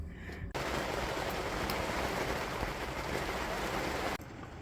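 Heavy rain drums loudly and densely on the roof of a narrowboat on the Stainforth and Keadby Canal, starting abruptly after a quiet moment and cutting off just as suddenly near the end.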